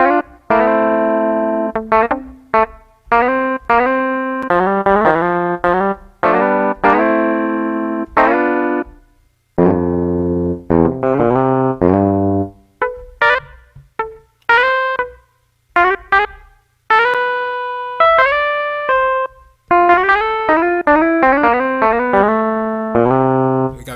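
A virtual American solid-body electric guitar with two humbuckers, played in the Presence XT software instrument, plays melodic phrases through effects, notes ringing out with a processed, echoing tone, loud and up front with no talking.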